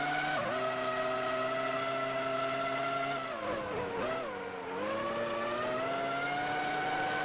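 Formula One race cars in the PS2 game F1 2003 at the Canadian Grand Prix, engines whining loud and steady with layered harmonic tones that dip and bend as cars pass and overtake, no talk.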